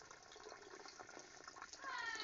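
Water flows strongly from a ram pump outlet in Negros Occidental, a steady gushing stream that grows slightly louder toward the end, heard up close.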